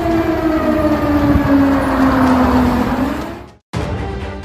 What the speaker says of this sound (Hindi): कीव में बज रहा ये सायरन